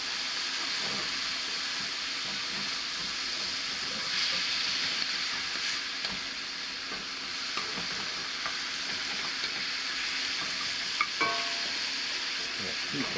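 Garlic sizzles and crackles steadily in a hot cast iron pan, a soft continuous frying hiss with occasional small pops and stirring sounds, close but fairly quiet, no talking.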